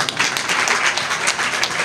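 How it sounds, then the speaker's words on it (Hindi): An audience applauds to welcome a poet to the mic at an all-India mushaira in Mominpura, Nagpur, producing a brief burst of dense clapping. "ज़ोरदार तालियों से उनका इस्तकबाल"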